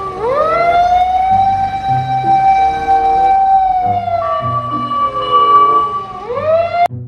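A toy ladder fire truck's wailing electronic siren rises, holds a long tone, dips and rises again, loud and close, with low mechanical sounds beneath and a click at the end.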